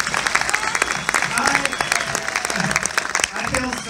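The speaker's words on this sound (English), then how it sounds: "Let's give them a huge round of applause" A theater audience on opening night gives the cast a big round of applause, loud, dense clapping from a full house with scattered cheers, continuous throughout.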